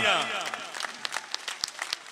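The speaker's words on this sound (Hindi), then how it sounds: "मोहन यादव जी के लिए जोरदार तालियां, शानदार तालियां, दतिया जैसी तालियां।" Applause from a crowd at a political rally in Datia for Mohan Yadav, starting as a dense wash under a fading voice and thinning into scattered sharp individual claps toward the end.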